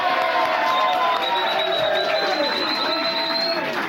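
A studio audience cheers and claps for the director in the booth at a live anniversary show, a steady broad roar of crowd noise sustained throughout with whistles running over it.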